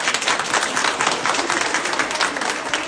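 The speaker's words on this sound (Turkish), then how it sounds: "kendiniz için bir alkış istiyorum" Applause from an audience at the opening of a women's and family unit in Esendere, a fairly quiet, even patter of many hands clapping continuously.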